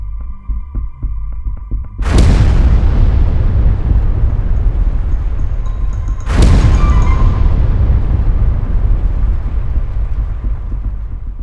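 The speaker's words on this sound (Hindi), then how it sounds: "गिरते ही ये बम डेटोनेट होता है और धमाके के साथ करीब 160 मीटर चारों तरफ फैल जाता है" Two massive booming bomb blasts, a few seconds apart, each erupting suddenly and rolling into a long, low rumble that slowly fades.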